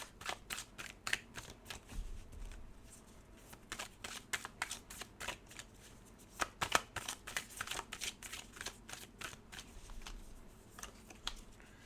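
A deck of tarot cards shuffled by hand makes quick, repeated papery riffles and slaps in uneven bursts, close up and fairly quiet, with no talking.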